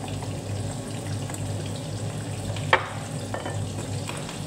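Food frying in a pan in a home kitchen, a steady crackling sizzle with a sharp splatter pop partway through, fairly close and without talk.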